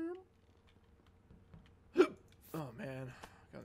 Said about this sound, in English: Got the hiccups.